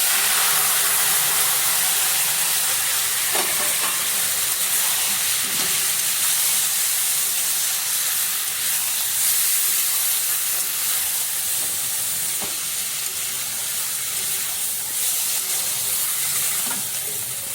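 Small fish mixture frying in a wok, a loud continuous sizzle and hiss that holds steady, with occasional faint stirring scrapes and no talk.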